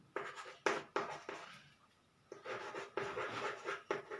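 Pen or chalk strokes writing out a trigonometry equation in a class, a series of short, distinct scratchy strokes with a pause in the middle, close and without talk.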